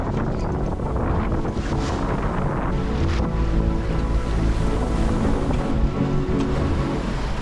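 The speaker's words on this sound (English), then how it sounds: "Waves are coming directly against me, then they turn, then they come back directly against me." Ocean waves slapping against a sailboat in the North Sea between the Norwegian coast and Helgoland, with steady rushing water and gusty wind buffeting the microphone, loud and continuous.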